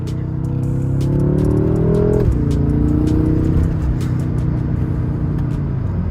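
A BMW F10 M5 fitted with Gamma intakes accelerates smoothly in a loud, steady engine drone from inside the car, with a brief pitch drop partway through as it shifts, then carries on.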